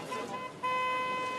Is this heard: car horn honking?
yes